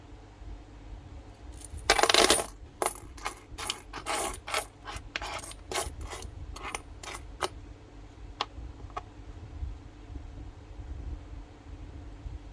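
Thai Garuda coins, including damaged ones, clink and rattle as they are handled, a loud burst of jingling followed by a run of sharp, separate metallic clicks that fade to a few faint taps.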